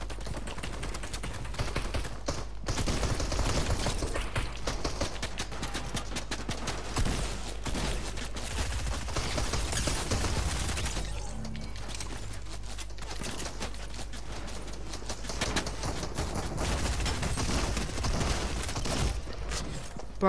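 Rapid gunfire in an online shooter video game, with dense, sustained bursts of shots and impacts layered over loud game audio that barely lets up for the full stretch.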